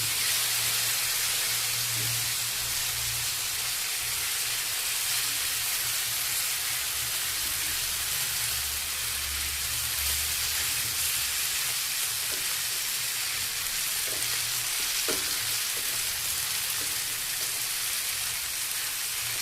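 Brinjal pieces fry in a hot pan and get stirred, giving a steady broad hiss with a low hum underneath and a few faint scraping clicks toward the end.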